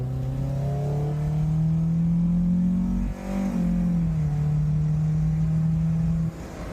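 An MG BGT LE50 sports car in sport mode pulls hard through a gear, its engine note rising steadily in a loud, smooth drone, dipping briefly at a shift before climbing again.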